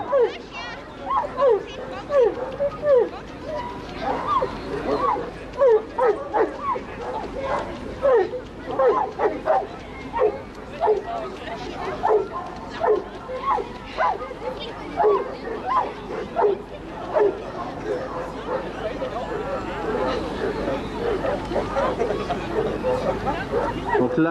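A dog barks over and over in quick, yappy bursts during a water rescue exercise with a rope, with some whimpering and the murmur of voices in the background.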